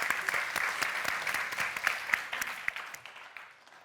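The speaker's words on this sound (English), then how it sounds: "huge applause, please, for Constantinos Timinis" An audience at a science-communication competition semi-final claps loudly in a dense, steady burst that thins and fades toward the end.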